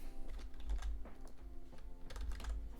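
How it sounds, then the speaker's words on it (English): Fingers tap steadily on a computer keyboard in quick, uneven bursts of close clicks over a low background hum, with no talking. "I'm good at typing."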